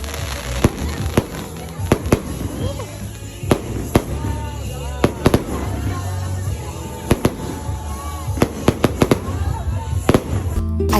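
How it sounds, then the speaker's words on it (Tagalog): Fireworks display during Christmas Day festivities at a snow-themed holiday attraction, with sharp booms and crackling bursts popping repeatedly and irregularly over a steady crowd murmur, fairly loud and close. "napasakto pa kami sa kanilang fireworks display"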